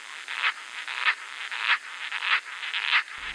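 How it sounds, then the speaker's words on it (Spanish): A soft, high-pitched song of a tiny black cricket chirps in short repeated pulses, steady and gentle, with faint background hiss. "es un grillo muy chiquitito, de color negro y que tiene un canto muy suave"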